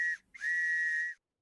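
A broom whistle in the Minecraft Enigmatica 9 modpack gives a clear, steady high whistle that breaks off briefly, resumes and holds for about a second before stopping, with no other sound.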